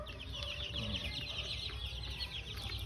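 Barred Plymouth Rock chicks and Rhode Island Red chickens cluck and peep steadily together, a dense flock chorus close by with no talk over it.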